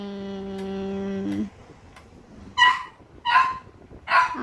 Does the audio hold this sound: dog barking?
yes